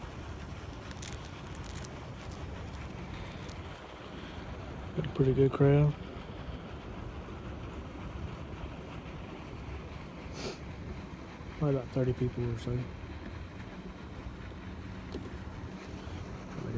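Strong gusts of wind buffet the open air at Lakeview Lakes during bank fishing, a steady rumbling roar that runs the whole time, with people talking over it in two short bursts.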